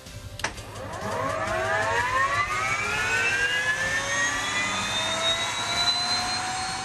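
Bell LongRanger helicopter parked at a goose-hunting lodge in Manitoba, heard as a steady rising turbine whine spooling up after a brief click, fairly close and building in pitch over several seconds with no talking.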